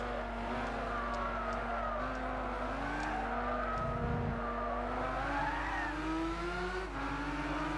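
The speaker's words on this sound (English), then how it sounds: "And it's still drifting around corners." A four-wheel-drive Lamborghini Aventador in Gran Turismo 6 drifts around corners, its engine droning steadily with shifting pitch while tires squeal continuously, loud and close throughout.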